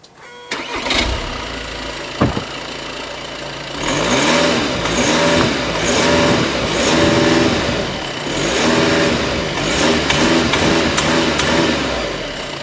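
Exhaust note of a VW Passat B8 2.0 BiTDI twin-turbo diesel, 2014: the engine starts, then revs in several rising and falling pulses, held back by the limiter, loud and close with no talking.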